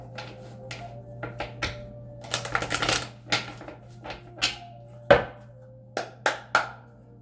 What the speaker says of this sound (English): I'm going to shuffle the deck one more time.